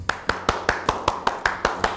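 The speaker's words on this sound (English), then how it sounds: "clap your hands." Children in a studio audience clap in slow, evenly spaced single claps, about ten over two seconds, moderately loud and without voices.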